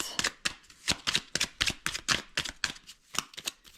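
Oracle cards being shuffled and drawn, a dense run of crisp riffling slaps and flicks in quick uneven succession, close by with no voices.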